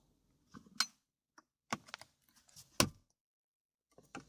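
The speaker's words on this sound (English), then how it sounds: "I insert the knife in, and then I wiggle my way to the left" A flat-edged knife pries a plastic trim clip loose on an Opel Meriva B, giving a few sharp plastic clicks and scrapes in scattered bursts, close by in a quiet space with no talk.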